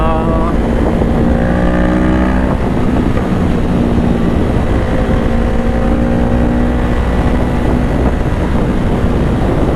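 A 2020 Honda CBR500R ridden at sunrise, its engine droning steadily and loudly at cruising revs with shifting pitch, mixed with heavy wind rush against the microphone throughout.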